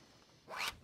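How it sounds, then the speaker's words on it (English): A zip being handled for a camper cushion cover: a single quick zipping pull, close and crisp, rising out of faint room quiet and ending abruptly. "I'm going to sew a horseshoe zip into this."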